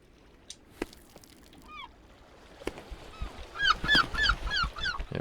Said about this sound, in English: when you hear the fluttering of wings or hear a squawk